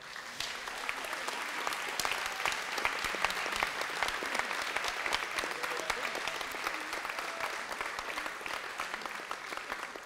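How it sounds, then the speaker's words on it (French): An audience at a regional final of a science thesis-presentation contest gives a long, steady round of applause, dense clapping sustained evenly throughout with no talk over it. "on peut une dernière fois faire une grande salve d'applaudissements"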